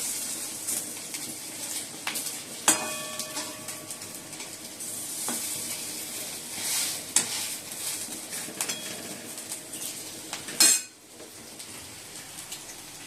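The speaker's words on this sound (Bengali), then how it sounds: "বাঁধাকপি বড়া অল্প করেই করি" Cabbage fritters frying in a pan, a steady bright sizzle running throughout with occasional utensil clinks and stirring scrapes, a sharp clatter near the end, no talking.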